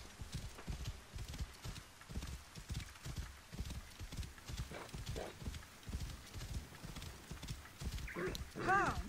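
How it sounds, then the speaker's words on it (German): A horse trots steadily during automatic riding through ancient Egypt in Assassin's Creed Origins, its hooves clip-clopping in an even rhythm, faint and mixed with murmured voices, ending with a brief whinny. "So, jetzt mache ich mal das automatische Reiten."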